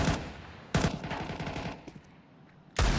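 Gunfire in a Counter-Strike tournament match, with two sharp bursts of automatic fire followed by a faint tail and a third burst at the end, loud and close.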